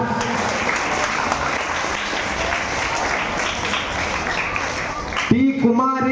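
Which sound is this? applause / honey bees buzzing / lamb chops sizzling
applause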